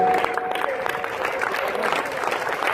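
A crowd at an Ekadashi kirtan for Khatu Shyam ji claps steadily in time, loud and close, with a sustained musical tone and devotional singing underneath.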